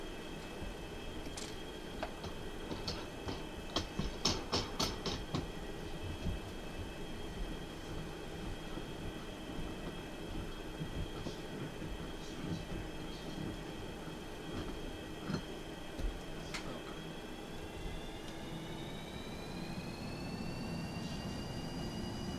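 A Boeing 737-200 in the X-Plane flight simulator taxis to the runway with a steady low engine hum and whine, overlaid with occasional cockpit ticks and clicks, and no talking.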